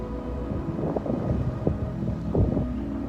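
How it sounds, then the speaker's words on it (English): Wind gusts outdoors at a stone seat with a wide view, a steady low rumble buffeting the microphone, swelling in a couple of brief louder gusts. "But I also have wind."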